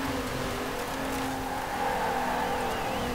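A car with a large V6 engine up front, a hot hatch driving in the Forza Horizon 4 racing game, holding a steady, continuous engine drone at constant loudness throughout, with no talking.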